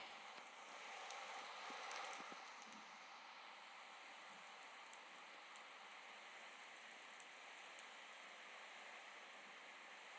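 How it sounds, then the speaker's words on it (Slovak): Rain falls in the Minecraft video game. It is a faint, steady hiss that stays even and continuous for about ten seconds, with a few soft ticks scattered through it. "prší výborne"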